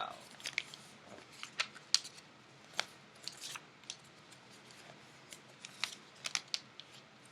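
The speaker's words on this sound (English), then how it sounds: "you're going to cut it in half" Scissors snip through folded paper during a paper-craft activity, with a steady series of crisp, close, quiet cuts and rustles.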